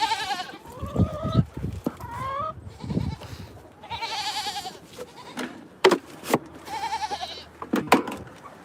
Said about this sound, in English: Try not to get trampled by goats.